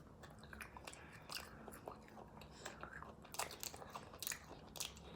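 Quiet biting and chewing on a small piece of chocolate, close up, with soft crunches and moist mouth sounds scattered unevenly across several seconds and a louder cluster of bites near the end.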